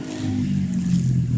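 A motorbike engine revs outdoors in a steady, loud, continuous drone with a slight rise in pitch, close by and with no voices over it.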